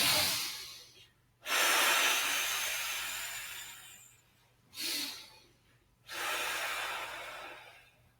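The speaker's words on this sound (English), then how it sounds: "so we can breathe in, breathe out, stretching up and back" Slow, deep breathing in and out during a guided lung meridian stretch, with long airy breaths alternating with short pauses, close to the microphone and with no talking.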